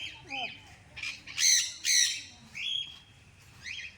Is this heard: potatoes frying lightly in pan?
no